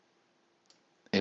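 A computer mouse clicks once faintly, then again more sharply just as a voice starts speaking at the very end.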